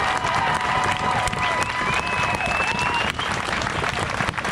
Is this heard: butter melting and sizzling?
no